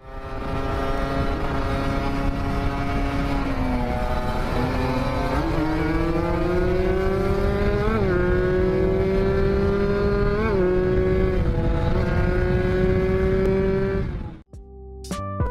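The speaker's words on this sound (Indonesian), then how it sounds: "suara Kawasaki Ninja 2 tak adalah yang terbaik" A Kawasaki Ninja two-stroke sport motorcycle engine revs loudly and steadily nearby, pitch rising and dipping with throttle blips for about fourteen seconds before cutting off abruptly.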